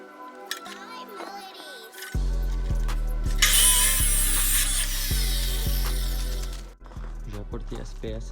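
A power tool cuts metal tube for a homemade rear offroad bumper for a 2001 Ford Ranger. A loud motor whine spins up and holds steady, with a harsh, grinding cutting noise in the middle before it winds down. A voice is heard briefly at the start.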